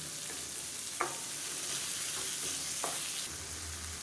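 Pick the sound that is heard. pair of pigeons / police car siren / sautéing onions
sautéing onions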